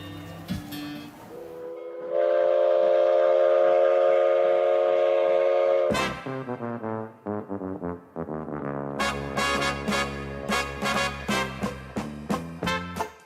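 A railway train at a historic station: a long sustained steady whistle tone, then a rapid series of rhythmic clattering pulses as the train moves over the tracks, loud and close.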